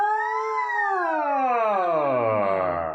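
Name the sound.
voice imitating a siren, sliding from low to high pitch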